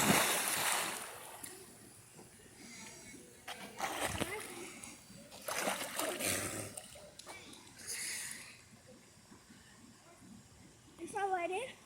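A nine-year-old kid cannonballs into water, making splashing bursts amid outdoor ambience, with voices faintly present in the background.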